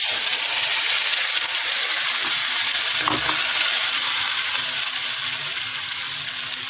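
Marinated soybean chunks fry in hot mustard oil in a kadai, giving a loud, steady broadband sizzle that fades slightly toward the end, with a brief clink partway through.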